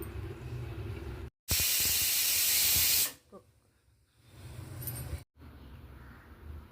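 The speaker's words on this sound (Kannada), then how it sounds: "ಇದನ್ನು ಈಗ ಕುಕ್ಕರ್ ಮುಚ್ಚಳ ಮುಚ್ಚಿ 1 ವಿಜಿಲ್ ಹಾಕಿಸ್ಕೊತೀನಿ" A pressure cooker whistle blasts a loud, harsh hiss of escaping steam for about two seconds while peas kurma cooks, cuts off abruptly, then leaves a softer fading hiss and low background rumble.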